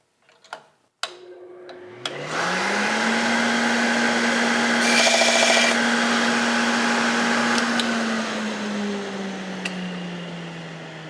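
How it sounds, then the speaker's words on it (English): A MAG-6000 hedge trimmer blade sharpener spins up and grinds steadily against a hedge trimmer blade tooth, a loud continuous whine with a clunk at the start and the motor winding down near the end. "we'll quick do a test grind to see if we're covering the whole tooth"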